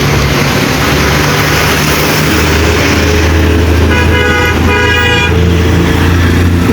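Road traffic jam in Bangladesh with cars and motorbikes idling and moving, and repeated horn honks sounding close by around the middle, over a loud, steady engine rumble.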